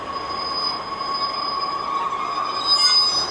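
A two-carriage local passenger train passes, squealing on the rails with a high, sustained metallic whine, loud and close, swelling slightly near the end.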